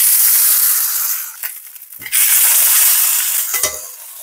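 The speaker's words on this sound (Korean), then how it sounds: "자, 이렇게 지방 부분도 충분히 익혀주시면 맛있어요." Pork neck fat sizzling loudly on a grill, a close, steady frying hiss broken by a few short dips and scraping stirs.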